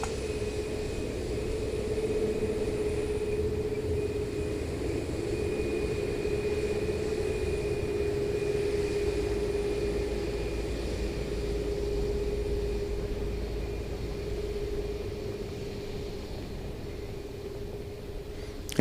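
An Airbus A350-900 arriving from Singapore at Seoul drones steadily in the distance, a continuous engine roar with a sustained whining tone that holds for the whole stretch without much change in loudness.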